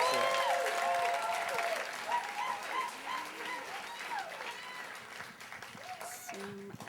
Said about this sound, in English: So a big round of applause for Sara.